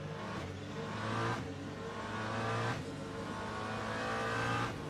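A hypercar or LMP prototype race car engine in the Le Mans Ultimate sim drones at high revs, steady and loud, with periodic dips and rises as gears shift, and no talk over it.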